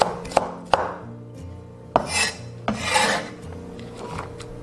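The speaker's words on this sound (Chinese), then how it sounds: "两颗大蒜切片，一小块生姜切片，一小节大葱斜刀切断" A kitchen knife cuts garlic, ginger and scallion on a cutting board, with a few sharp separate chops mixed with rasping slicing strokes at close range, and no voices.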